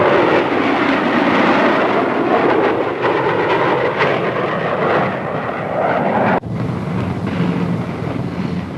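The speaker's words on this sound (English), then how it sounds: "Four-ship formation coming in over the field, being led by the B-49, B-47, 45, and the F-86" A formation of four aircraft, the B-49 flying wing leading a B-47, a B-45 and an F-86, roars over an airfield, a loud, steady, broadband jet rumble with wind buffeting that holds throughout and dips briefly near the end.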